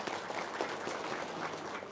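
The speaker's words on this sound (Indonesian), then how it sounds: "Sip, tepuk tangan dong." Applause from a studio audience on an Indonesian religious game show, a steady dense wash of clapping running the full length at moderate, even loudness with no clear voices on top.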